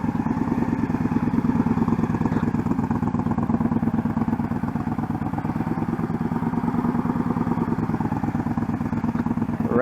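Motorcycle engine at light throttle during low-speed rider training, a steady rapid pulsing putter held evenly throughout with no voices.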